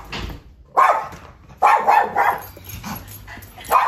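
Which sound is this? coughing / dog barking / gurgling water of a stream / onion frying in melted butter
dog barking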